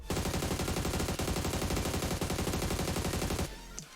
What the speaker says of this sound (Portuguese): eu estou com a minha AUG, vou atirar aqui no alvo a 20 metros apenas na cabeça